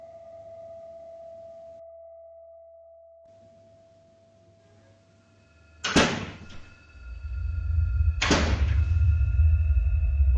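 Front door heard opening and closing: two sharp bangs a couple of seconds apart, the first followed by a rattle, then a loud rushing rumble, after a long quiet stretch with a faint steady tone.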